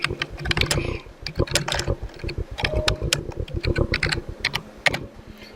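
A computer keyboard is typed on in quick, irregular bursts of close, crisp key clicks, with no voice over it.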